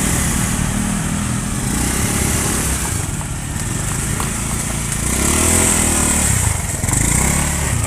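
Motorcycle engine labouring along a rough, uneven path toward a fishing spot: a loud, continuous buzzing drone that rises and falls in revs as the bike jolts over the ground, close and without talk.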